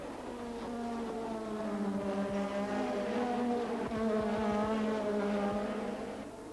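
Formula 1 cars race at the 1984 German Grand Prix, a loud sustained engine whine holding steady with overlapping high-revving tones from several cars close together throughout.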